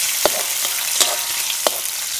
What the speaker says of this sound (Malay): Masukkan ikan bilis. Goreng sehingga wangi.